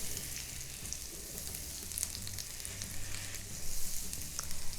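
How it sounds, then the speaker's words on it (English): Unsalted butter melts in a pan with a low, continuous sizzle and faint crackle that swells slightly toward the end, with no talking. "That butter is just melting."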